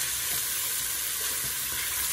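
Food sizzles steadily in a frying pan on a stovetop during stew cooking, a continuous bright hiss with faint scraping textures underneath, no talking.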